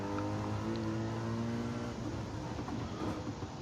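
A race car engine in Gran Turismo 7 holds a steady, buzzing high-rev tone on the final lap, then shifts into rougher, fluctuating revving as it works through the last corners, with no voices.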